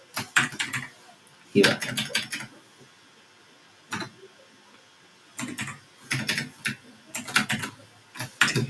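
Computer keyboard typing in bursts of quick close key clicks with pauses between them, while someone speaks Hindi quietly at times.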